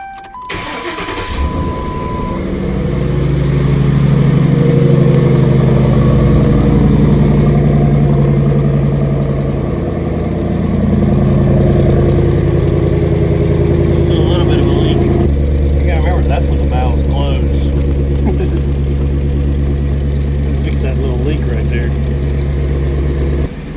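A 2010 Ford Crown Victoria Police Interceptor V8 with a new cheap exhaust system fires up and rumbles at a deep, steady idle, loud and close, with a shift in tone partway through.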